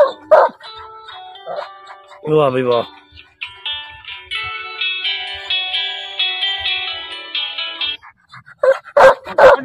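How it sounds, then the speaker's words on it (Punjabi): A bully dog outdoors gives a few sharp barks and whimpering yips, between which someone speaks excitedly and a long electronic tone sounds in the middle. "ਬੋਲੀ ਕੁੱਤਾ ਚੈੱਕ ਕਰੋ।"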